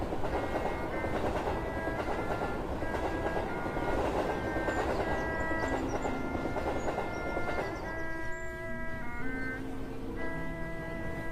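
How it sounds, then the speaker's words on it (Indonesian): A crowded passenger train departing for Tanjung Priok in 1928, rumbling steadily with clattering wheels and long sustained horn or whistle tones sounding repeatedly near the end. "Kereta api penuh sesak, berangkat menuju Tanjung Priok."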